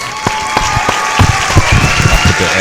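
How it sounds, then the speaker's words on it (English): An edited-in round of applause and cheering added to a podcast moment: a burst of crowd clapping with distinct individual claps and some crowd noise, loud and close, building over a few seconds. "The edited round of applause in there to make it sound all extra special."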